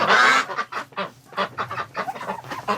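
Ducks at a breeding setup kept indoors out of the cold honk and quack in a loud burst, followed by a steady run of shorter calls from several birds close by.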